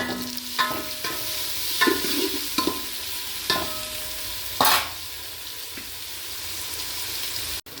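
Onions frying in a pan at home, a soft steady sizzle broken by several scraping stirs and clinks of the spoon against the pan.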